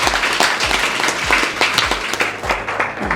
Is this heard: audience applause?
yes